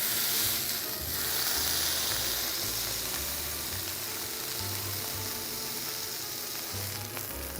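Beef Wellington searing in a hot pan gives a steady, close sizzle with bright hiss throughout, alone with no talk.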